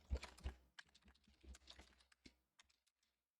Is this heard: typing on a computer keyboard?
yes